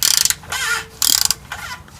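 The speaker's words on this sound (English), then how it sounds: "I'm just going to use a short little 3/8 extension on my ratchet" Ratchet with a short 3/8 extension loosening an oil drain plug on a Toyota Sienna 2GR-FE V6, two bursts of rapid close clicking separated by quieter turning.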